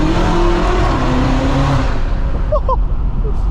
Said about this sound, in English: now we're going to have a sick exhaust for upcoming meets